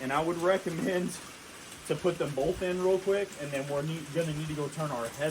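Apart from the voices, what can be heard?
No everyday noise stands out behind the speech.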